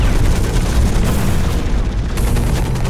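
Turret firing in the mech shooter Hawken, a loud continuous rumble of booming explosions and rapid fire, dense and close throughout with no pause.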